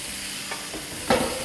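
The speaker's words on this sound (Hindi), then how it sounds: "इसको अच्छे से मिलाएंगे" Minced chicken being stirred in a pan with crushed chilies and oregano, soft scraping strokes over a low sizzle, with a louder stir near the end.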